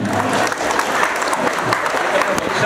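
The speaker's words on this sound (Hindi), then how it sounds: "सब ताली दीजिए" A housing society audience applauds the committee at an Independence Day celebration, a full, continuous round of clapping from many people, close and loud, with some voices mixed in.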